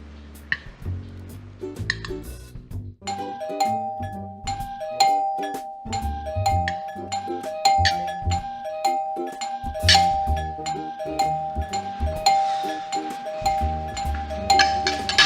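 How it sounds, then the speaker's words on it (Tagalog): A doorbell chimes over and over in a repeating ding-dong pattern, with clinks and busy background noise between the tones. "Doorbell?"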